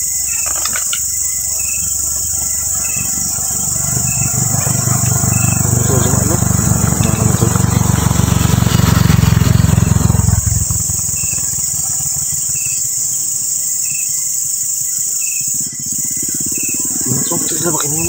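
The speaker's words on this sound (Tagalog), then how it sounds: "So, may dumaan na motor." A motorcycle passes by on a rural road amid constant insect and cricket buzzing, its engine rising from faint to a loud, close rumble around the middle and then fading away, with voices talking intermittently.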